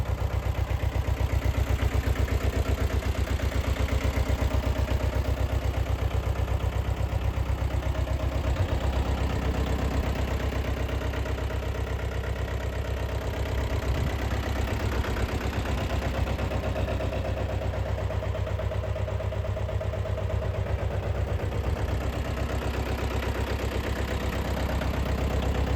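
A Sonalika Tiger GT26 tractor engine idles steadily, a dense continuous low rumble that holds at an even level throughout with no breaks or revving.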